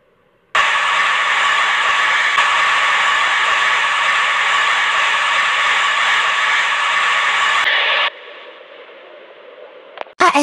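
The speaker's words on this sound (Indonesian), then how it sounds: "ASMR hair dryer." Hair dryer in the Avatar World video game: a loud, steady high-pitched whooshing whine that starts abruptly, holds for about seven seconds, then drops to a softer lower hiss before a click, with no talk.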